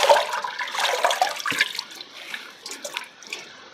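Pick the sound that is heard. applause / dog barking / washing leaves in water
washing leaves in water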